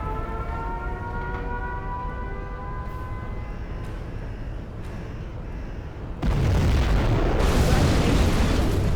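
A nuclear missile strike in C&C Zero Hour: after a few seconds of pulsing siren-like tones and sharp blips, a loud, sudden, broadband blast erupts and roars on steadily to the end.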